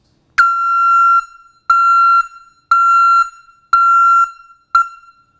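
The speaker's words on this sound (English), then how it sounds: "The ECCO backup alarm tone that we are all used to when it comes to the conventional sound." An ECCO 500 Series vehicle backup alarm sounds as the vehicle shifts into reverse, giving five loud, evenly spaced electronic beeps, each about half a second long and separated by short gaps.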